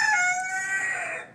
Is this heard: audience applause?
no